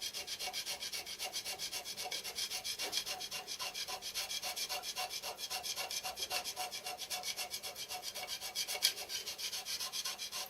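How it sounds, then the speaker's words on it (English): Hand scraping on the metal compound slide of a homebuilt Gingery milling machine makes steady, rhythmic rasping strokes, close and evenly repeated for about ten seconds, with no one talking. "with all my practice on the aluminium, I'm now getting better at hand scraping."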